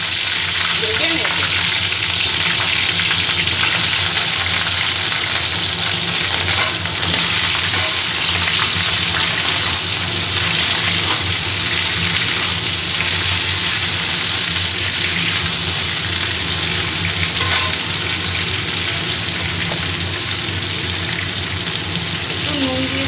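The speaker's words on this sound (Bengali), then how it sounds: "লাল লাল করে ফুলকপিটাকে ভেজে নেব।" Cauliflower florets fry in hot mustard oil in a wok. The loud, dense sizzle stays constant and close for the whole stretch, with faint stirring now and then.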